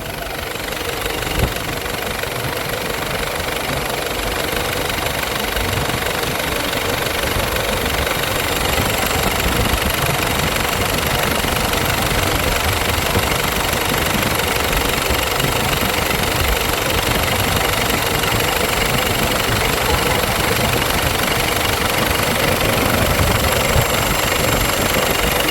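An Isuzu 4JX1 diesel engine with a newly fitted intercooler runs steadily and loudly, a continuous close-up droning rumble with knocking vibration that holds without a break and has no talk over it.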